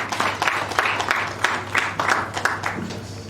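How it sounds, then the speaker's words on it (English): An audience at a renewable energy panel discussion applauds for a speaker, a steady run of sparse, distinct claps from a modest crowd that carries on evenly throughout. "Please, a round of applause for Chris."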